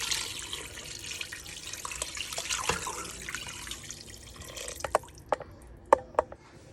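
Water is poured into the pot for Taiwanese beef noodle soup with a steady splashing rush, then thins out into several close, distinct drips.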